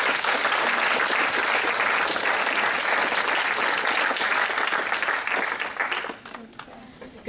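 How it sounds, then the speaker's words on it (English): Sustained audience applause fills an alumni leadership day gathering at a school, loud and dense for about six seconds before tapering off near the end. "So let's give a round of applause."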